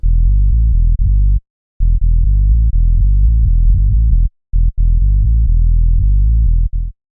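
A deep, buzzy synth bass sample made for tech and minimal house plays a loud, rolling pattern of sustained low notes, broken by a few brief silent gaps.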